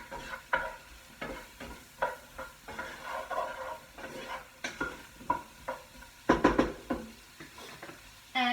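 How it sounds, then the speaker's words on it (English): Three cloves of garlic and 200 grams of mushrooms cook in a pan over low-to-medium heat, a soft steady sizzle broken by repeated sharp clicks and scrapes of a utensil stirring, close and clear with no voices. "we have the 3 cloves of garlic, 200 grams of mushrooms, and we're just going to let that cook."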